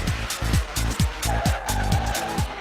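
Race cars on a track laid out on a former parking lot skid and squeal, with short tyre chirps repeating in a quick, regular rhythm over a steady engine roar.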